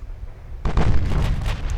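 Heavy naval gunfire from battleship turrets in Ultimate Admiral: Dreadnoughts, a loud booming salvo that starts abruptly and rolls on with a rumbling blast and crackling debris, without any talk.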